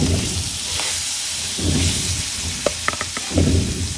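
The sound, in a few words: fish frying in oil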